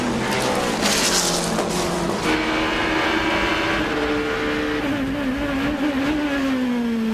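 A race car engine roars continuously on the final lap at Monterey, loud and close, its pitch rising and falling steadily with gear changes and throttle as the car pushes through the circuit.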